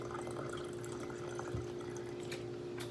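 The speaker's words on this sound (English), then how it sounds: "pour in about a shot of whiskey" Whiskey poured by eye into a glass, a soft steady trickle of liquid close by lasting a few seconds, with a faint bump midway.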